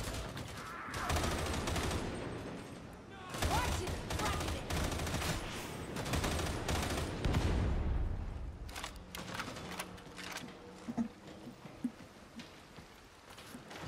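An automatic autogun in the grimdark co-op shooter Darktide rattles off long rapid bursts, loud and dense for several seconds before thinning into scattered shots and quieter game noise.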